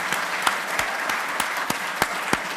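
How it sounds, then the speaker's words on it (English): Applause from a fan convention Q&A crowd at a wrestling con for Kevin Nash, a light, moderate patter of clapping with several distinct sharp claps standing out near the mic. "can we get a round of applause?"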